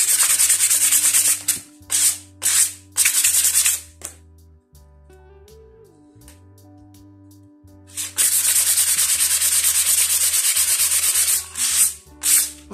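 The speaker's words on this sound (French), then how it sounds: "J'avais un truc pour poncer, je sais pas où il est passé." Wood being sanded by hand for a homemade hanging shelf, close and loud, in bursts of rasping strokes with a quieter pause in the middle before a long steady run of sanding.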